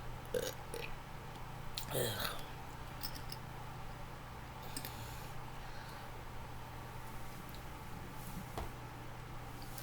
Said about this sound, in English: One thing I don't like about burping is that you get the day before's meal into your burp.